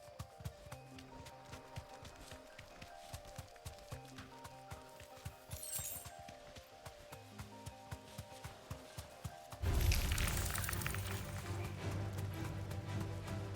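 Chocobo footsteps from Final Fantasy 16, a steady run of rhythmic thudding steps beneath a game music bed, swelling into a louder burst of rushing movement near the end.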